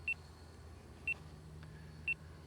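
Three short, high electronic beeps from an RC transmitter's three-minute timer at steady one-second intervals, sharp and clear over a low, steady background hum.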